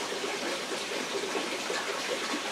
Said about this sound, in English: you can hear some water behind there. That's the grotto